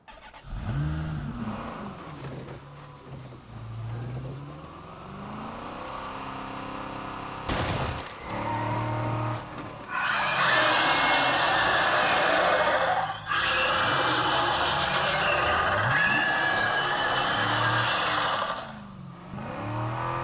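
A car in State of Decay 2 video game revving and driving, its engine rising and falling through shifts, then a harsh roaring rush with rattling bursts like gunfire in the later half.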